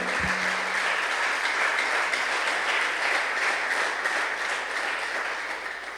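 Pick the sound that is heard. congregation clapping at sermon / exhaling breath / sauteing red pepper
congregation clapping at sermon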